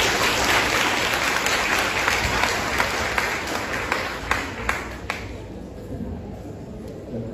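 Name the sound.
audience applause at graduation ceremony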